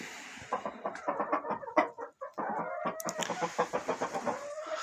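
Chickens cluck close by in a laying flock kept for egg incubation, while a rooster crows loudly across the middle and end, all with no talk.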